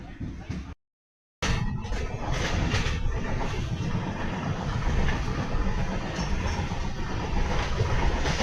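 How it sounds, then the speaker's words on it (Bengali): The Coromandel Express (12842) moves off after departure: after a brief cut, a continuous low rumble of rolling carriages fills the rest of the passage, steady and fairly loud. "ট্রেন ছেড়ে দিয়েছে।"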